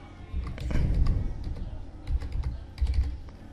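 Fingers typing on a computer keyboard at a Windows PC, quiet close clicks in three short bursts separated by brief pauses.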